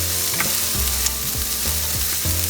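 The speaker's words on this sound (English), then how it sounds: "We will half fry all the spices," Roughly chopped red onion and spices frying in oil in a pan: a steady loud sizzle with periodic low scraping strokes of a spatula stirring, close up, no talk.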